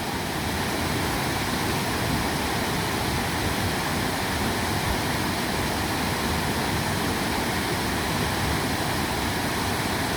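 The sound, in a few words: waterfall rushing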